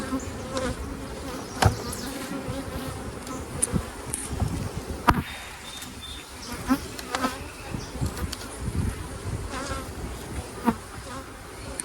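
Honey bees buzz steadily around a yard of several beehives in an apiary, a dense continuous drone with individual insects passing close by, no talking.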